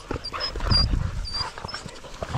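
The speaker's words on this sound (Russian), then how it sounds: "А это Астра скулит." A pitbull puppy whimpers in short, high-pitched whines over a steady low background rumble, with several thin cries spaced across the moment.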